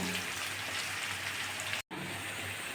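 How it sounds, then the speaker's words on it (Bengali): Potato pieces deep-fry in hot oil, making a quiet, even, rain-like sizzle that drops out briefly once before carrying on. "আলুগুলো আমি লাল করে ভেজে তুলে নেব"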